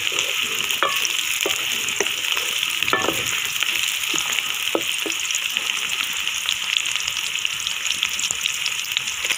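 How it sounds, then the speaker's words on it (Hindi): Finely chopped green chillies fry in hot oil for an aloo methi masala, a loud continuous sizzle with scattered scraping clicks from a spoon stirring them, no speech. "चम्मच हिलाते रहें।"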